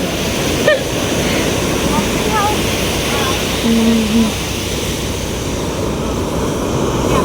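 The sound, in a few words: ocean waves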